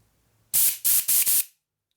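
Compressed air blasts from a rubber-tipped nozzle into a port on a 650cc Harley-Davidson XL Sportster single-cylinder race engine: four loud, close hissing bursts of roughly a quarter second each, separated by brief gaps, with no talking.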